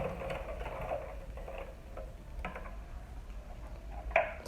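A sewing machine backstitches on a pearl-trimmed baby shoe with faint, quiet mechanical ticking and whirring, its steady stitching low in the background.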